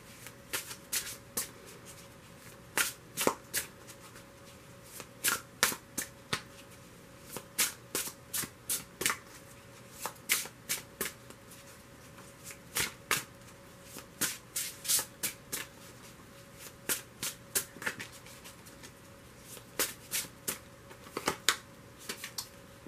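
A Vintage Wisdom Oracle card deck being shuffled by hand, with repeated crisp riffling bursts in an irregular rhythm, close and fairly quiet, and no talking.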